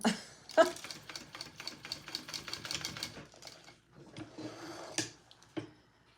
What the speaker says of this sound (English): I just sewed right on our markings